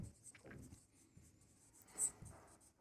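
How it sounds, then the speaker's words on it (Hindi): Pen or marker writing on a board or page while working a Class 10 maths problem on linear equations, with soft, close scratchy strokes in irregular bursts and a brief louder squeak near the end, with no talk. "तो यहाँ लिखेंगे प्रश्नानुसार"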